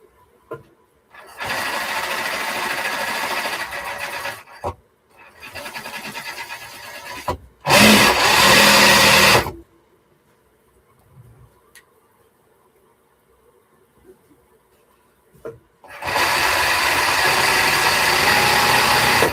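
A sewing machine stitching fabric seams runs in several loud bursts of steady mechanical whirring, separated by quiet pauses, close up.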